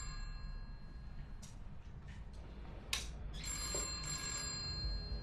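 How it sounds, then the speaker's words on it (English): A landline telephone in a study rings, its bright repeated bell tones sounding faintly against a low steady hum, with no talking. "Is that not the landline in the study?"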